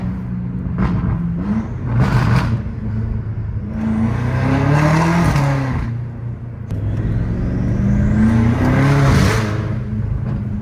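A BMW M5 Competition with a straight-piped exhaust revs hard and loud, close up, in several rising and falling bursts that crackle and rasp between pulls.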